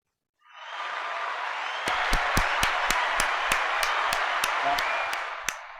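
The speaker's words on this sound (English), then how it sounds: "After the applause, of course." Audience applause at the close of a talk on value delivery, a steady wash of many hands clapping that swells in and holds, with a few sharp, distinct claps standing out near the front.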